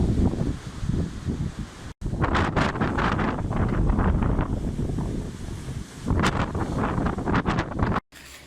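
Strong wind buffets the microphone over a flooded meadow beside a 600-year-old French château, a loud, continuous roar with surging gusts and two brief dropouts.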